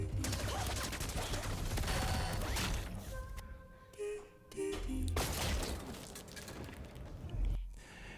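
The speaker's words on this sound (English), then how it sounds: "That sound of the gunfire is very good." Video game gunfire from a Marathon trailer: rapid bursts and fusillades, loud and close, with a short lull in the middle before shooting resumes amid crashing effects.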